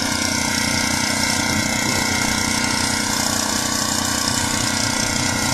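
A pressure washer washes down a painted building wall, its engine and spray making a loud, constant roar close by, with no break in the sound.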